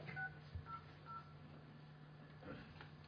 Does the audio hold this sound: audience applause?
no